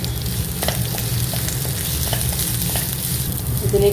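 Thinly sliced onion sautéing in a pan for chicken chow mein noodles, a steady close sizzle with light stirring clicks throughout.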